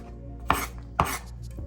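Two crisp knife chops through garlic cloves on a cutting board, about half a second apart, close and fairly loud over a quiet kitchen hum.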